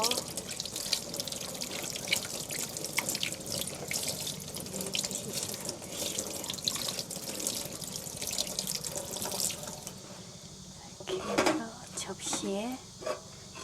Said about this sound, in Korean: 뜯으신 다음 흐르는 물에 깨끗이 씻어주세요.